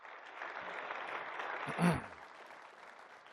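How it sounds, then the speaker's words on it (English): Audience applause for volunteer award winners at a city State of the City address, a steady wash of clapping from a crowd that holds evenly and swells briefly near the middle. "So let's give them applause, those winners."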